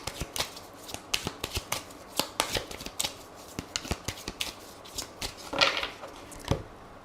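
Oracle cards shuffled by hand in a quiet room, giving a rapid series of crisp riffles and soft slaps with brief pauses between them.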